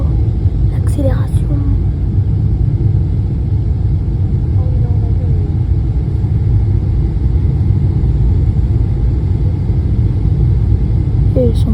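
An airplane accelerates down the runway on takeoff, a loud, steady, broadband roar that holds for the whole stretch, with faint voices murmuring now and then underneath.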